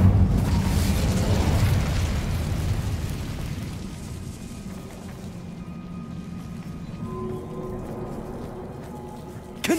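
A fire spell cast in Hogwarts Legacy: a loud whooshing burst of flame at the start that roars and fades into a softer crackling rumble over several seconds.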